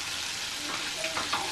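Kentucky-style fried chicken pieces, nearly done and floating in hot oil, give off a steady, close, dense sizzling hiss, with a few light stirring touches near the end and no voices.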